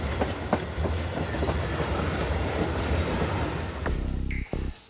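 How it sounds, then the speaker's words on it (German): The Heidekrautexpress heritage train runs at full speed through the Schorfheide in Brandenburg. It rumbles steadily with rhythmic wheel clatter and rail noise, near and loud. The sound drops off sharply in the last moments. "Und das ist er, der Heidekrautexpress in voller Fahrt."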